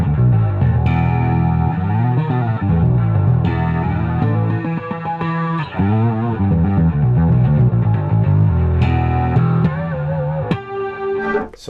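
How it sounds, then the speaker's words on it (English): A distorted bass guitar through an EBS Billy Sheehan signature overdrive pedal plays chunky low notes and chords with a shimmering chorus effect on the distortion, loud and continuous throughout. "now just the distortion is chorusing."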